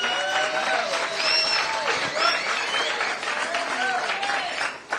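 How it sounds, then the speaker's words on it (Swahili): Audience applause at a Kenya Kwanza meeting with people with disabilities in Nairobi County, a steady crowd clapping throughout with voices mixed in. "Now Samson Wawero, kuja hapa tumpigie makofi."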